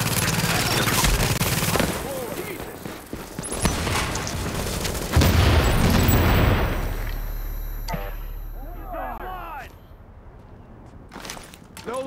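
Turret gunfire in The Division, heavy bursts and booms crowding the first half, then tapering into sparse shots with a voice talking over the action.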